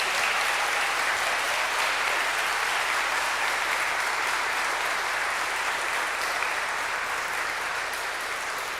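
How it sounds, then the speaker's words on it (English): Audience applause at a nursery school graduation ceremony, a steady, even roar of many hands clapping that holds at constant loudness for nearly nine seconds without a break. "I think that's worthy of a round of applause."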